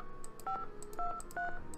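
Telephone keypad dialing tones in the Nancy Drew game Message in a Haunted Mansion, a quick series of DTMF beeps in an uneven rhythm, each brief and clear with faint clicks between, close and fairly quiet with no talk.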